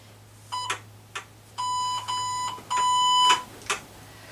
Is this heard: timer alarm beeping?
yes